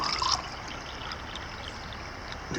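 Water pours from a Nalgene bottle at a campsite, a steady close trickle that splashes a little more at first, then settles into an even, soft flow for a couple of seconds.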